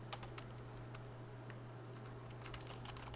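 A computer keyboard is typed on while game code is written, producing faint, irregular clicky keystrokes over a steady low hum.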